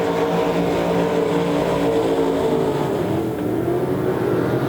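Limited modified race cars roar around Devil's Bowl Speedway, a dense, steady engine drone with no breaks, loud and continuous as the pack circles the track.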